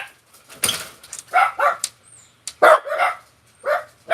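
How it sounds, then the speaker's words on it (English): Several dogs bark in short, sharp bursts, irregular and fairly close, with brief quiet gaps between the volleys. "You want to listen to my dogs bark?"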